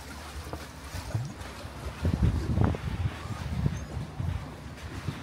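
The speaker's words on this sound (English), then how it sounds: "we're about to set sail on the 9:45 on Good Friday, which takes us down to Glenridding" Lake cruise boat departing Pooley Bridge Pier, its low engine rumble and water churning against outdoor wind noise, fairly close and steady.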